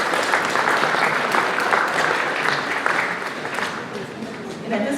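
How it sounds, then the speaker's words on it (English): Steady, dense clapping from a meeting audience at an open house and oath-of-office ceremony, many hands blending into a continuous roar that holds for several seconds with a slight swell at the end. "Give them a round of applause."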